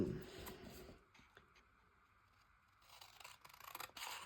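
Small black scissors handled on a crafting table for a collage, giving light scrapes and snips close by at low level, mostly in the first second and again toward the end.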